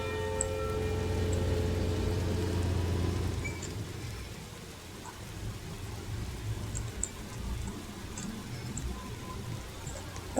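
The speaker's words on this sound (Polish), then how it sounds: "Jeszcze deszczyk pada." Soft, steady patter of light rain, with a low engine-like rumble underneath at first that fades away.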